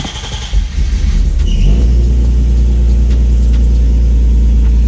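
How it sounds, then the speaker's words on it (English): Infiniti G37 engine cranking and catching after a coolant drain and bleed, the starter whirring briefly before the engine fires into a loud, steady, close rumbling idle. "we're just gonna start the car and check and pay attention to the temps"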